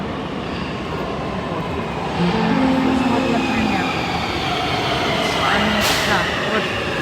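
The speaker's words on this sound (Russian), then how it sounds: "Между прочим, в Нюрнбергском метро управляют роботы." Driverless automated metro train in Nuremberg, heard as a steady loud rumble and rolling hum of the train and platform noise, with a short voice speaking over it.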